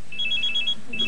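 A telephone rings in a home, its repeated electronic trills arriving in quick bursts, clear and fairly close, with a short pause before the ringing resumes.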